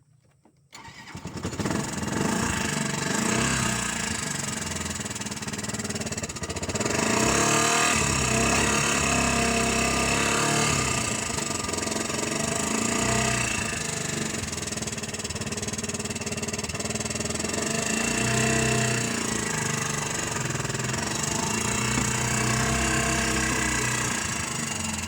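A small rural car fitted with a motorcycle engine cranks and fires up, then runs steadily close by with a buzzing, rattling idle that rises briefly in revs before settling, no talk over it.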